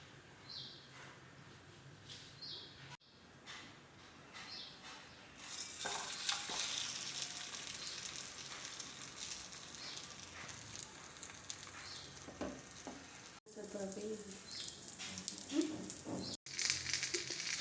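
Bread fries in oil on a hot tawa with a steady sizzle that grows louder partway through, along with occasional scraping and stirring noises close by and no talking.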